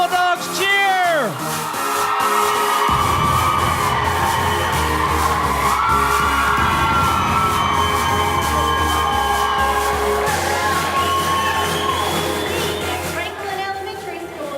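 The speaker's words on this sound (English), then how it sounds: "let me hear the Bulldogs cheer" An elementary school crowd at a convocation cheers and whoops loudly and continuously, a dense roar of many voices that swells and holds throughout.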